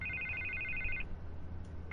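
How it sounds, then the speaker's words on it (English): A telephone rings in a Batman Telltale game scene, a steady electronic trill for about a second, then a pause before the next ring begins, fairly clear and with no voices. "I can't get the phone to stop ringing."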